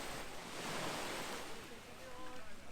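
Gentle sea on a Costa del Sol beach in November, a soft continuous wash of small waves close by with light wind noise and no clear breaks.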